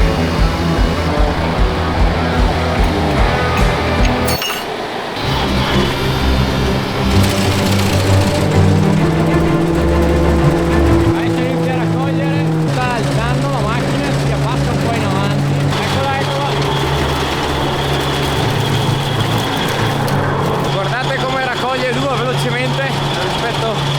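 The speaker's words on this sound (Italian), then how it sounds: "Il padre ha già preparato l'Antares con il carro e mi sa che adesso sta arrivando." An Antares tractor hauling a grape-harvest trailer approaches at a vineyard, its engine droning loud and steady with low rumbling harmonics, while people talk over it.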